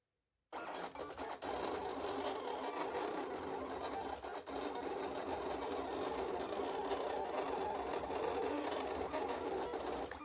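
A sticker-sheet cutting machine runs its blade across the sheet, a steady close mechanical whirring and clicking that continues at an even level throughout after a brief silent start.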